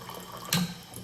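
Water runs from a kitchen tap into a container while a sparkling matcha latte is being made, a short close burst of splashing about half a second long in an otherwise quiet room.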